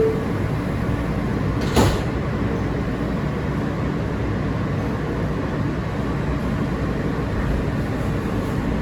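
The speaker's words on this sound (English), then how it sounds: "And clear of the closing doors," Doors closing on an R160B Siemens N train of the New York City subway at a station, a brief sliding thud over the steady rumble and hum of the carriage interior.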